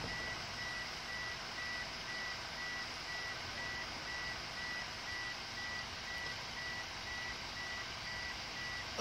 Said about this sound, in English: Sorry about the car beeping. Door open.